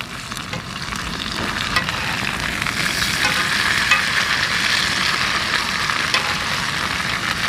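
Potatoes frying in hot oil in a pan, a steady dense sizzle and crackle that holds close and loud throughout with no talking.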